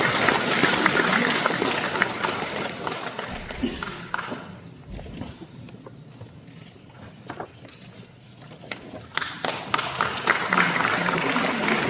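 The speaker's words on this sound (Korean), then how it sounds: "박수로 맞이해주시면 고맙겠습니다." A crowd applauds to welcome a speaker at a commemorative ceremony in a church hall, a dense, continuous clatter of clapping hands that rises and falls but never stops.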